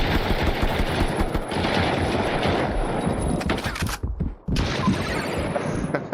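Rapid automatic gunfire from an Unreal Engine 5 shooter game rattles on loud and nearly continuous, breaking off briefly before the bursts resume.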